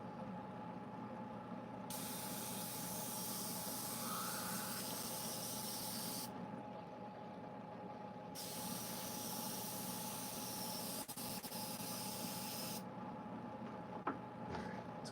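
An airbrush sprays black paint onto a chainsaw-carved wood sculpture, giving a steady, faint hiss that cuts out briefly twice and resumes, over a constant background hum.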